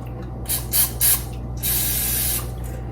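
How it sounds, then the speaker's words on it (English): Three quick hissing bursts from an aerosol cooking spray can onto a measuring spoon, then one longer steady spray, close by over a low background hum. "I'm going to spray my measure."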